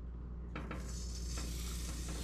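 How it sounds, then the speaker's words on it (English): Flounder fillets sizzle steadily in a hot pan as they are laid in, with a few soft clinks and stirring sounds over the constant close frying hiss. "You hear them sizzling already."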